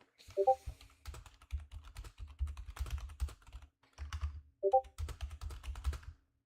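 Rapid computer keyboard typing clatters steadily for several seconds in close, clear bursts, pausing briefly midway, with no voices over it.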